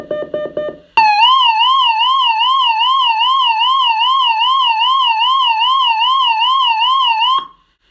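Cold War nuclear warning siren sounding through a bunker speaker, a loud steady wailing tone that warbles rapidly up and down for about six seconds and then cuts off abruptly, following a few short bursts of noise.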